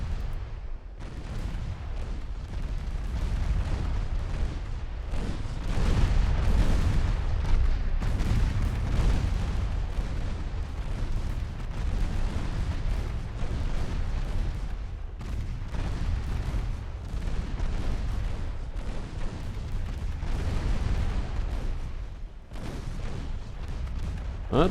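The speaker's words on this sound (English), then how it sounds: "The secondary guns proved themselves effective as well." Warship secondary guns in the naval game Ultimate Admiral Dreadnoughts, a continuous barrage of deep booms and overlapping gunfire rumbling without pause, heavy and dense throughout.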